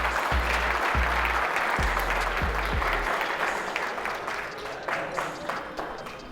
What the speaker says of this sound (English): give them a round of applause if y'all don't mind